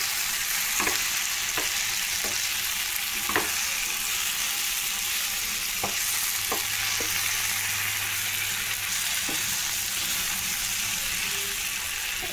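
Dry fish tomato curry stirred in a pan: a continuous soft frying sizzle under about a dozen separate spoon clinks and scrapes against the pan, spaced irregularly and heard close up.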